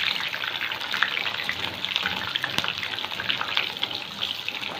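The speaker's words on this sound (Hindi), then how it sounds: "जैसा कि आप ये देख रहे हैं कि पीसेस हमारे फ्राई हो रहे हैं" Chicken pieces frying in hot oil, giving a dense, continuous crackling sizzle at steady volume with no talk.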